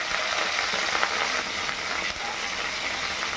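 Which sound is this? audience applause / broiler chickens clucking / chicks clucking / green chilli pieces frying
green chilli pieces frying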